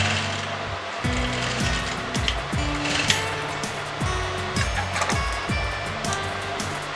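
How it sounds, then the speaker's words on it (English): An electric sewing machine stitches fabric for a kurti neck, running up close in short repeated bursts whose whirring hum rises and falls. The motor starts and stops several times with brief pauses, and no voice is heard. "I'm going to stitch this piece of fabric over here"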